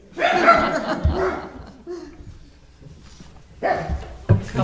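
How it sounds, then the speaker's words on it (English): Dogs bark in short bursts during a council meeting, loud and close, mixed with laughter and chuckling from people in the room, with a quieter gap between bursts. "Every time we clap, they bark."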